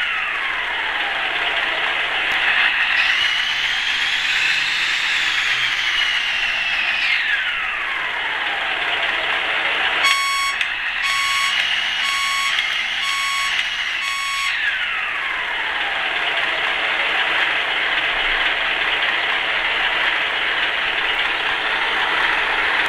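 A USM-RC-2 RC sound module produces a synthetic engine whose pitch swells upward and falls back as it accelerates, over a continuous drone. A burst of rapid electronic beeps comes in the middle, then the steady running returns.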